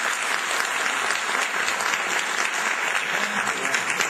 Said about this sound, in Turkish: Bir son kez alkışlayalım onları isterseniz.